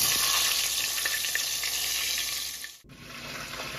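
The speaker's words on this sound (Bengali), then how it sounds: "ডিমগুলো একে একে ভেজে নিচ্ছি" Eggs fry one after another in a pan with a loud, steady sizzle that dips and briefly cuts out near the end, then resumes.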